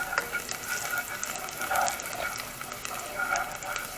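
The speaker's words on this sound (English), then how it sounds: "We stir the garlic first." Garlic frying in a pan for a chicken stew, a soft steady sizzle broken by light scrapes as it is stirred, fairly quiet and close.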